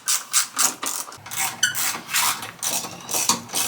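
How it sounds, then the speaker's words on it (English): Ratchet clicking as a T30 Torx bit backs out the OEM seat bolts on a Yamaha Tenere 700, rapid bursts of pawl ticks in several short runs, close and crisp, with no talk. "First step is to remove the OEM seat bolts here."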